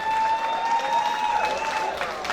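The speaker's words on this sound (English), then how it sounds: "A big round of applause to Mr. Mamadi Jallo and his friends." An audience at a West African community party celebrating Sierra Leone gives a round of applause, steady dense clapping mixed with faint crowd noise and a few high whistle-like tones.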